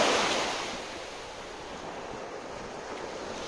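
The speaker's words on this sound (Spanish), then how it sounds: "acá aumenta el viento y las olas" Ocean waves and wind sweep across Praia Daniela beach in Florianópolis, a broad steady hiss of surf that is loudest at first, eases, then holds, with no voices.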